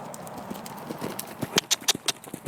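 Horse hooves clip-clop on the ground during a jumping lesson, a quick, uneven run of thuds that grows louder and closer toward the end.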